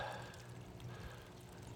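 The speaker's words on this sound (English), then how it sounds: "Looks like the system's starting to wake up again. You can see the" Water begins to run through a tomato garden watering system, a faint, steady pouring and trickling wash that carries on without a break for the whole stretch.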